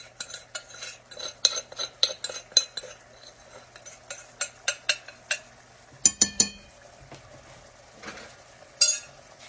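A utensil scrapes leftover flour from a dish, producing a series of sharp metallic clinks and scrapes in irregular bursts, close and clear, with short pauses.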